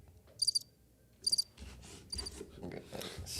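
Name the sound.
crickets chirping sound effect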